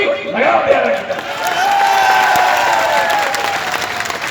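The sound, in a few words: crowd applauding at a political rally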